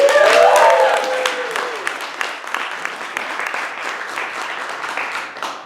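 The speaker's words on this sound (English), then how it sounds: "Let's keep the applause going for Alex Fotopoulos." Audience applause at a comedy show, a dense wash of clapping that starts loud over a brief cheer or voice and then settles into steady, slightly softer clapping that continues to the end.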